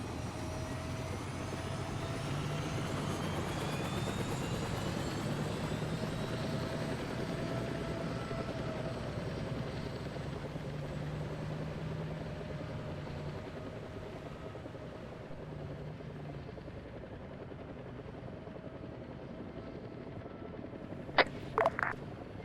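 Steady rotor and turbine drone of a helicopter lifting off in ARMA 3, loud and continuous, slowly easing off, with a few short clicks near the end.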